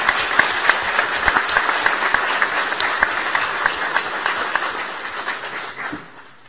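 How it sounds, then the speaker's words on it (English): A school board meeting audience gives a loud, sustained round of applause for students, dense clapping from many hands that holds steady, then thins and fades out near the end. "So how about we give one more round of applause to these students."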